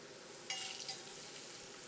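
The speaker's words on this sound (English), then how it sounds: "I'm going to lay them skin side down into the pan. Now it should make a fairly good sizzle." A short burst of sizzling as chicken legs are laid skin side down in a hot pan, settling into a quieter, steady frying hiss.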